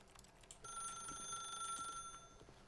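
A telephone in The Stanley Parable rings in a steady electronic trill, fairly close and with no speech over it.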